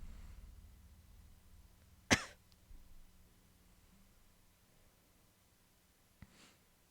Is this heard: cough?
yes